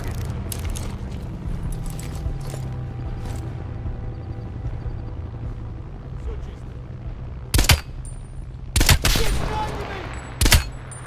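Sniper rifle shots in a shooting video game, a few sharp, loud separate cracks near the end after a stretch of low ambient rumble and faint background sounds.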